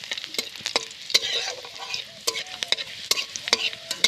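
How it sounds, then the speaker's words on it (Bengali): Chopped garlic and dried red chillies fry in a pan, a crackling sizzle broken by frequent sharp clicks and scrapes of a spatula being stirred, close and lively. "এবার রসুন কুচিগুলো দিয়ে দিলাম। রসুনটা ভালো হবে, শুকনো লঙ্কাটা সুন্দর লাল হবে।"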